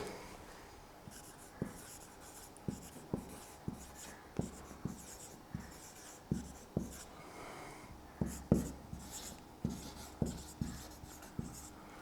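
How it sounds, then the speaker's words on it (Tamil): A pen writes on paper close up, making a steady series of sharp, scratchy strokes in an uneven rhythm with short pauses and no voices. "அதை இங்கே எழுதி போடுவோம்"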